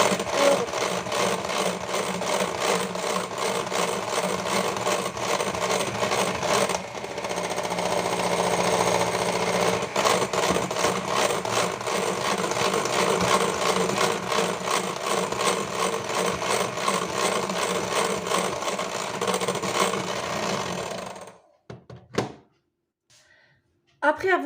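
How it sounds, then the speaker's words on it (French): An electric whisk beating madeleine batter with oil, a continuous close buzzing whir that runs for about twenty seconds before cutting off, then a few faint clicks, with speech alongside. "Et là, je vais venir fouetter à nouveau."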